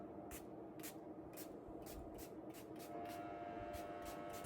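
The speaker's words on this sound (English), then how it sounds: "So I'm just going to spritz it all over the bed." Homemade lavender spray spritzed over a bed from a pump bottle, about a dozen short hissing bursts in a steady rhythm, close and clear over a constant low room hum.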